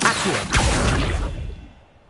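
An Accio spell cast in Hogwarts Legacy, a single loud whooshing magical burst with a sharp hit that fades out over about a second, close and alone.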